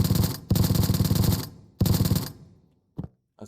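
Suppressed weapon fire from an extraction shooter video game: two long bursts of rapid automatic shots, loud and close, each fading out, then one brief muffled shot alone.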